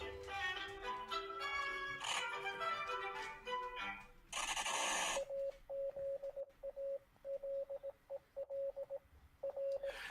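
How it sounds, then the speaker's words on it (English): Morse code signal beeps in a sequence of short and longer steady tones, clear and evenly pitched, following a burst of music and a noisy transition. "There's a Morse code here."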